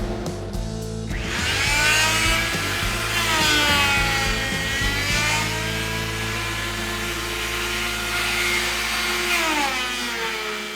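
A router fitted with a roughly 1.5-inch carbide insert bit flattens a small wood slab, its high motor whine steady underneath while the cutting noise swells and fades in repeated passes across the wood.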